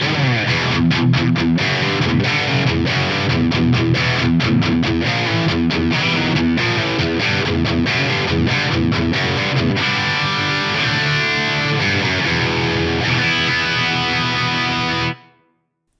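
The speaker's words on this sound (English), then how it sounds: "USA lead mid-gain amp model set up for a nice tight rhythm guitar sound" Electric guitar through a USA lead mid-gain amp model, tight crunchy rhythm chords with palm-muted chugs, loud and steady, ending abruptly.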